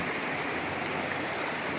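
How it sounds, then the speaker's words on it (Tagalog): Continuous rushing of a mountain river, a dense even wash of flowing water heard close and steady for the whole short stretch, with no voices. "Yan ang ilog. Galing yan dun sa bundok."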